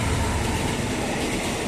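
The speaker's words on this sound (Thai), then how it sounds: "มีขบวนรถเข้าที่สถานีบ้านคูบัวนะครับเป็นหัวรถจักร QSY หัวรถจักร QSY" A QSY diesel locomotive hauls a passenger train through Ban Khu Bua station in Thailand, its loud, steady rumble and rolling wheel noise filling the scene up close without a break.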